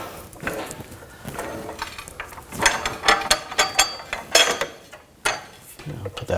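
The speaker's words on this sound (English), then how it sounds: "Lower the pull jack." Pull jack being lowered during a rear wheel hub bearing job on a 2000-2006 BMW X5, close metallic clanks and ratcheting clicks in an irregular series of sharp hits.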